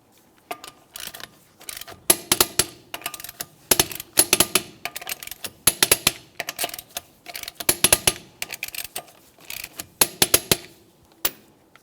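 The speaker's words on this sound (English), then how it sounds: "Now we can torque the lug nuts in a crisscross manner." Torque wrench tightening the lug nuts on a 2002-2005 Ford Explorer wheel in a crisscross pattern, producing bursts of sharp, close metallic clicks and ratcheting in quick clusters with short pauses between them.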